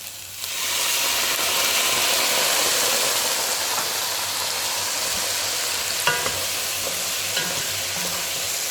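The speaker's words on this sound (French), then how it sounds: "Maintenant, avec mon vin blanc, je vais déglacer." A veal stew pot deglazed with white wine hisses into a loud, steady sizzle with a burst of steam, gradually easing, with a few faint clinks of a utensil near the end.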